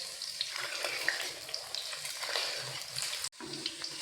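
Soybean chunks fry in oil in a pan over medium heat, giving a steady, close sizzle with light crackling and a brief break near the end; no voices.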